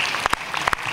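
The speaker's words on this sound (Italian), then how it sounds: "che possiamo accogliere con un caloroso applauso" Applause at an international opera singing competition for a winner, with a brief burst of clapping that has a few sharp, distinct claps standing out over a softer patter.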